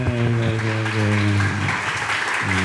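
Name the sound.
audience applause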